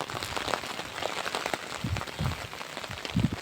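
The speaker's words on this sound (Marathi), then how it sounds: "पाऊस चालू आहे बारीक." Light, fine rain falls steadily in a village setting, a dense patter of small drops with a few heavier, low thuds mixed in, fairly close and even throughout, with no voices.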